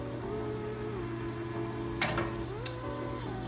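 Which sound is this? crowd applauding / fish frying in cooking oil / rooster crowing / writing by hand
fish frying in cooking oil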